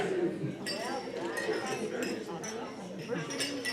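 Glasses clink during a toast at a wedding reception: light, repeated chimes scattered through a steady murmur of guests chatting nearby.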